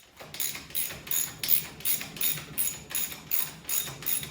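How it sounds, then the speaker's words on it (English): A ratchet wrench turning during assembly of a 1973 Kawasaki H1 Scrambler motorcycle, about nine even clicking strokes in steady rhythm, close and moderately loud with no talking. "I don't know why I felt the ratchet would be faster."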